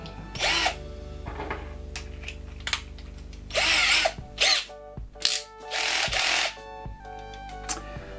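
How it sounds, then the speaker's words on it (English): An IKEA FIXA 14.4V cordless screwdriver whines in several short bursts as it drives a screw, with brief pauses and clicks between the runs. The sound is close and loud, and there is no speech. "And now let's try to screw."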